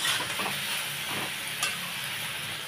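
Prawns and bottle gourd stirred together in a hot pan, with soft scraping stirs over a low, continuous sizzle, close and fairly quiet, no speech.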